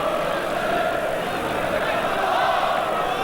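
Norwich supporters packed behind a goal cheer at a 1988/89 Division One match against Arsenal, a steady loud roar of crowd noise that holds through the whole stretch.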